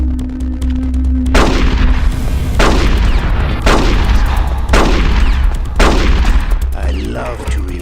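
Heavy battlefield gunfire from Metal Gear Solid The Twin Snakes, loud bursts of shots and blasts arriving in roughly five repeated waves over a steady low rumble, each volley cutting in sharply then tailing off.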